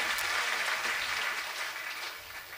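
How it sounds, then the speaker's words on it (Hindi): Two people clapping softly and steadily at a Hanuman devotional gathering, a faint, continuous patter of hands with no voices over it. "दोनों की ताली बड़े धीरे बज रही है"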